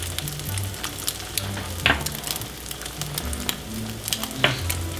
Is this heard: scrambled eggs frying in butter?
yes